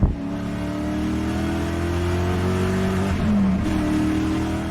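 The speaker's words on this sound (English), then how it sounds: "The Lexus SC400 has a proper V8 up front" A Lexus SC400's front-mounted V8 in a rear-wheel-drive coupe revs loud and close, a steady throaty drone with a short dip and pickup in pitch midway, heard alone without talk.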